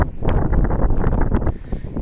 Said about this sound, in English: Windy, dusty.